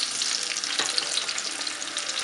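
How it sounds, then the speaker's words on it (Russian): Bell peppers fry in vegetable oil in a heavy-bottomed pan, a steady, close, bright sizzle with scattered crackles and pops throughout, no voices. "Будем обжаривать перцы болгарские."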